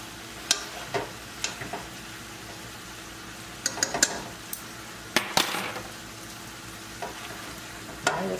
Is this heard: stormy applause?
no